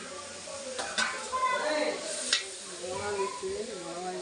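Tomatoes going into a pan of sautéed ginger and garlic for chicken biryani: a soft sizzle with light stirring and utensil clatter, under someone speaking throughout.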